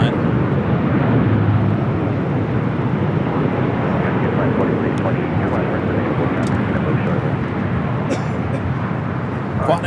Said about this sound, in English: That Western Global heading to its gate there on the south side